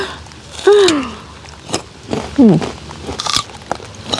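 A crisp bite into a firm guava followed by crunchy chewing, close up, with a couple of short squeaky sounds between bites.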